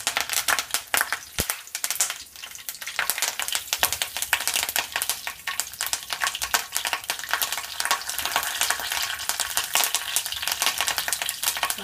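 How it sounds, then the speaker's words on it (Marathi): Curry leaves crackle and sizzle steadily in hot oil in a kitchen pan while rajma masala is being made, with a dense, loud frying hiss lasting throughout. "आता मी टाकते तो तेलात।"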